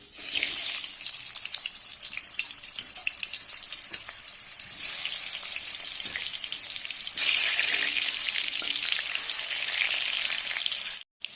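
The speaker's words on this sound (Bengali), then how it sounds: "তেলটা গরম হয়ে গেছে এবার আমড়াগুলো ছেড়ে দেবো" Hog plums (amra) frying in hot oil for a sour mung dal, a loud continuous hiss and sizzle that rises in two steps before cutting off abruptly at the end.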